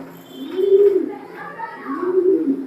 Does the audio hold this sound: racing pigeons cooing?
yes